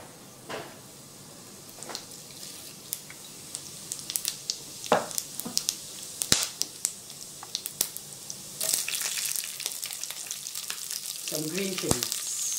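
Cumin seeds sizzle in hot oil with bay leaf, cloves and cinnamon, a steady crackling hiss dotted with sharp pops and occasional stirring clatter, growing busier and louder toward the end.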